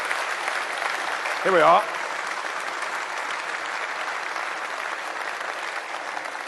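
Steady applause from a large political rally crowd for the Brexit Party launch, a continuous mid-level wash of clapping with a brief voice heard over it near the start.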